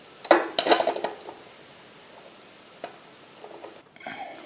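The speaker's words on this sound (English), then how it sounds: "I forgot I need to loosen the actual axle nut too." Metal clanks and clinks of a wrench working loose the tight axle nut on a brand new minibike, a few sharp knocks early then sparse ticks, close and fairly quiet.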